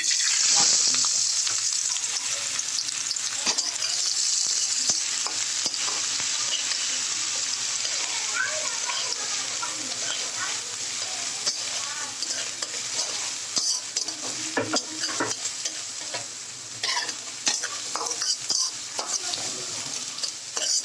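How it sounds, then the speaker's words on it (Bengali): Onion frying in hot oil for a prawn kofta curry makes a bright, constant sizzle that runs for about twenty seconds, with occasional stirring scrapes and pan clinks close by. "আমি এখন কুপ্তাকারির জন্য পেঁয়াজটা ছেড়া"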